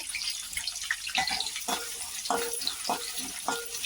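Sliced onion sautés in hot oil in a pan for methi pulao, giving a steady close sizzle broken by rhythmic scraping stirs roughly every half second, with no talk.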